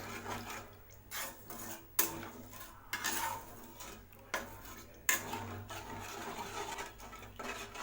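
A spoon clinks and scrapes against a pan while egg masala gravy is stirred with added water, giving repeated uneven metallic taps and rasping strokes at close range with no talking.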